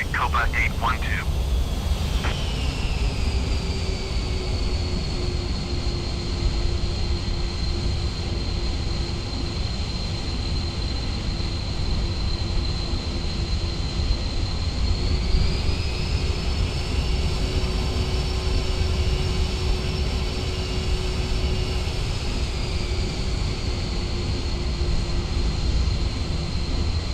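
A KLM Airbus A330 jetliner comes in to land at Amsterdam Schiphol, its engines a continuous high whine over a deep rumble that holds steady, then shifts pitch partway through the long approach.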